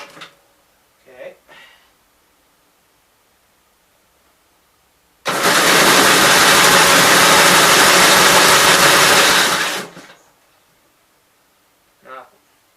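A 1965 L8 engine cranks without carb cleaner for about four and a half seconds, a loud, rapid chugging churn that stops abruptly without catching; brief speech comes before and after.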